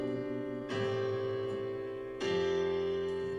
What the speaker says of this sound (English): instead of playing just normal notes like this